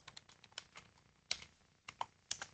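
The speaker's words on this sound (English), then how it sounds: "I was just typing that in the chat too." Fingers type on a computer keyboard during an online school information session, quiet uneven clicks and taps with a few sharper keystrokes, alone without talk.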